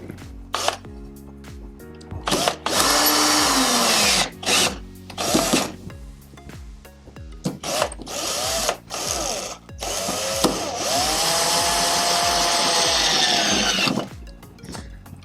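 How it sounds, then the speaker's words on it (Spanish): A cordless electric drill drives screws into a plastic electrical junction box in repeated close, loud bursts of whirring that rise in pitch and stop abruptly, separated by short pauses and light handling clicks. "ya el taladro lo tiene que dejar lo suficientemente fuerte como para que no se escape"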